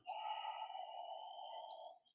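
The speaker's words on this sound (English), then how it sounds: "Breathing as we do so." A single long, slow exhalation during a gentle yoga exercise, a soft, quiet breath lasting about two seconds, heard alone with no talk.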